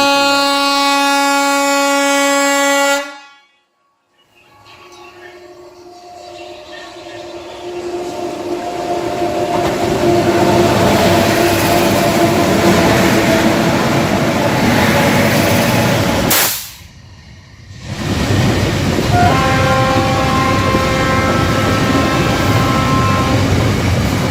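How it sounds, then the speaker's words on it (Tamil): A long goods train rumbles past nearby on the Eastern Ghats route between Araku and Visakhapatnam, a broad steady roar of wheels and wagons, with a horn-like tone at the start and briefly near the end. "அநேகமாக ஒரு கூட்ஸ் ட்ரெயின் கிராசிங் ஆகுதுன்னு நினைக்கிறேன்."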